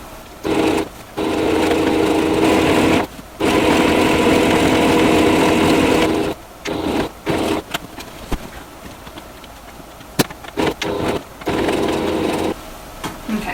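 A domestic sewing machine runs in several bursts as it stitches an apron seam, a steady close whir stopping and restarting between runs, with short pauses and handling noises in the quieter gaps.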